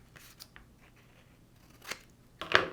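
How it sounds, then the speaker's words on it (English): Scissors trim the edges of origami paper for a modular hexagon pencil holder, giving a few crisp, close snips near the end with quiet rustling before them. "so I'm just trimming off a little bit."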